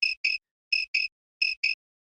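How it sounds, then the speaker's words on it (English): Mole crickets chirp in three evenly spaced paired pulses, clear and close against total silence, with no voices. "Mole crickets, dig holes."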